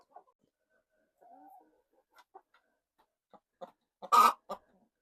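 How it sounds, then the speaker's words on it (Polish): A hen clucks softly in short, scattered bursts, close and quiet, ending with a louder squawk. "Słyszycie? jak gdacza. A tu kura mnie tu skubie."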